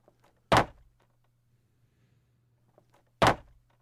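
Two heavy, isolated knocks on a door, nearly three seconds apart, loud and close against a near-silent room with only a faint low hum.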